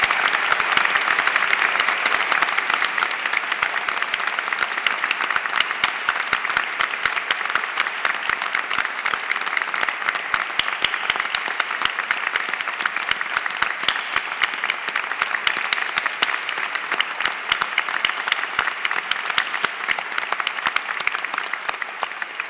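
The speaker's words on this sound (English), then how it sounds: "giving all our amazing graduates a huge round of applause." Sustained applause from a large crowd at a degree ceremony for graduates, dense and even throughout, loud and continuous with no talking.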